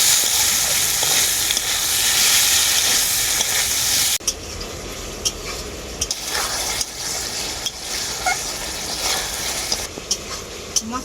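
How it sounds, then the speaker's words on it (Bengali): Spice paste and potatoes sizzle and fry steadily in a pan, a continuous loud crackling hiss with occasional stirring scrapes, heard alone without talk. "এরপর আমি মশলাটা খুব ভালো করে কষিয়ে নেব আলুর সাথে"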